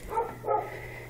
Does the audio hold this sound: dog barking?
yes